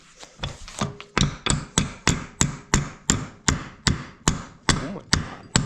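A hammer taps a pin out of a part clamped in a vise, about fourteen sharp, evenly spaced metallic blows close by, steady in rhythm and loudness, with no talk.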